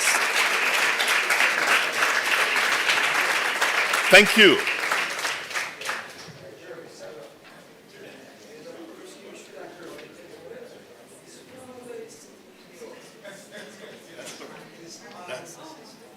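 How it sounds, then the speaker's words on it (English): Audience applause fills a lecture hall, loud and sustained for several seconds before tapering off, followed by a quieter room with a speaker talking over light background murmur. "give them a round of applause."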